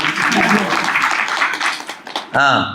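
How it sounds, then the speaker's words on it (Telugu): A group claps briefly at a gathering, with talking heard over the clapping before it ends in a short burst of speech. "లేవుగా చప్పట్లు కొట్టు"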